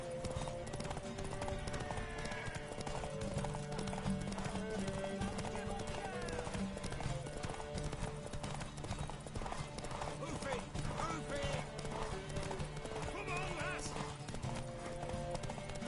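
Steady clip-clop of horse hooves in a scene from The Witcher video game, with a horse whinnying and voices talking over a busy, continuous background.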